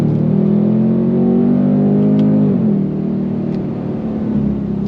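A 2024 Ford Mustang GT V8 revs loud and close, its engine note climbing steadily toward 7,500 RPM before dropping back as the throttle eases, with no talking over it.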